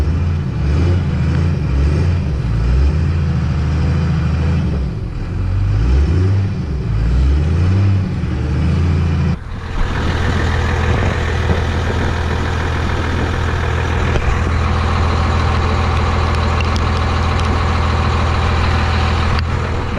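Stock dually truck with a 12-valve Cummins diesel and five-speed, mudding in deep mud; a loud, steady diesel drone runs throughout, shifting to a heavier, harder-working engine roar about halfway through, with no talk.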